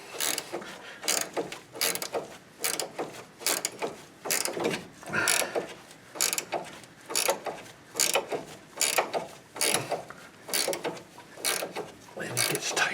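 Steady back-and-forth ratchet clicking turning a nut on the threads of a 2004-2014 Ford F150 front strut, coming in about fourteen regular close bursts at an even rhythm with no voice over it.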